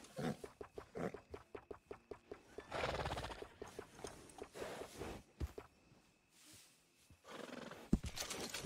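Horses in the video game Red Dead Redemption 2 neigh loudly and clip-clop on the ground, with rhythmic hoof strikes early and a whinny near the middle, quiet gaps between.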